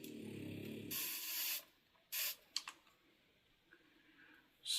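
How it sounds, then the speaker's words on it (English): A spray bottle mists the moist substrate inside an animal enclosure during setup, giving two or three short, near hissing bursts separated by quiet handling clicks and rustles. "Don't forget to spray it because sometimes your substrate can dry out"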